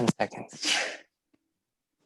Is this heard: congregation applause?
no